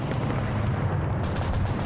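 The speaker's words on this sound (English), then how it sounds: "That was a penetration shot that also hurt that one" A tank round penetrating and hitting another tank in Arma 3 armored warfare, a heavy booming impact over a deep, continuous rumble of battlefield noise.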